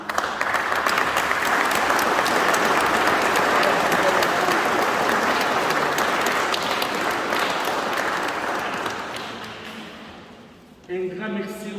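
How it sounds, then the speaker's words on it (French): A congregation in a church for a Corpus Christi and first communion celebration applauds loudly and steadily for about ten seconds before the clapping fades out. "On les applaudit."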